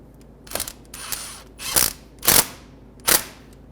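A ratchet or wrench snugs a union bolt into a new performance brake caliper on a 2003-2008 Honda Pilot, giving four or five sharp, close metallic clicks spaced unevenly over a few seconds.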